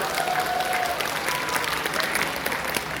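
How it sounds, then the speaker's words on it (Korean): Applause from a large audience at a Buddhist college training assembly at Guinsa temple, a loud, continuous wash of clapping close by that carries through the whole clip without a break. "큰 박수 부탁드립니다"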